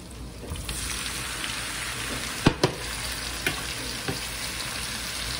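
Garlic shrimps with shells on frying in a pan, giving a continuous loud sizzle, with a few sharp clanks as they are tossed around.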